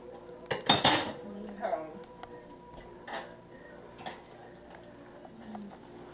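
Spoon stirring macaroni in a pot in a home kitchen, with a loud metallic clatter and scrape near the start, then sparse light clinks and taps spread across a quiet background.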